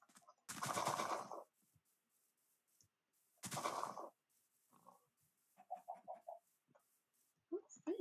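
Two loud, harsh squawks from a bird in a medieval village-building game, followed by softer clucking chirps and short calls. They sound fairly close and stand alone without speech.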